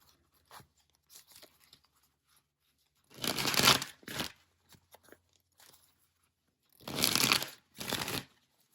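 Tarot cards being shuffled by hand, two quick riffling bursts a few seconds apart with soft card handling and taps in between, close and quiet.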